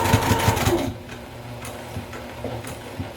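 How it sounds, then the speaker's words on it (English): A home sewing machine stitches a messenger bag seam in a fast, loud mechanical run for under a second, then stops, leaving faint clicks and handling noise. "I'm going to use 3/8 of an inch seam allowance. When I get to that angle, I'm going to put the needle in the down position and pivot."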